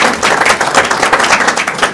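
Crowd at a Libertarian Party of Florida state convention applauding loudly, a dense, even burst of many hands clapping close by with no talk.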